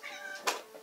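A single short cat meow, quiet and close, rising into a brief sharp peak before fading.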